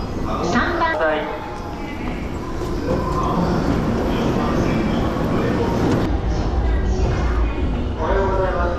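A train pulls into Urawa Station in Saitama, Japan, during the busy morning rush, with steady rumbling and rail noise, while platform announcements for a Takasaki-bound train and voices carry over the top.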